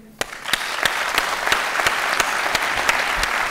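Audience at an agricultural awards night in Meuse Haute-Marne bursts into applause, dense crowd clapping swelling quickly and holding steady, with rhythmic group claps punching through at a regular beat, loud and close.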